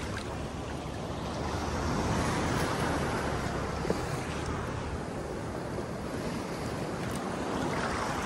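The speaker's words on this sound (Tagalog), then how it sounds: "Taras ng alon, no?" Ocean waves breaking on the beach at Lido di Jesolo near Venice, a continuous broad wash of surf with wind, steady and fairly loud throughout, no talking.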